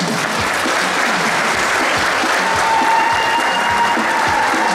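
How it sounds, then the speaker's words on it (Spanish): An audience at an anniversary radio event with live music gives warm applause, loud, dense steady clapping from a crowd, with a faint voice over it toward the end. "el aplauso, por favor"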